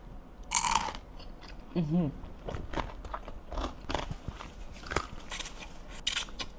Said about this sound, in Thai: หมูกระจกนี่ขายดีอันดับหนึ่งของฮอตโตเลยนะทุกคนลองนะ ไข่ต้มกินกับหมูกระจก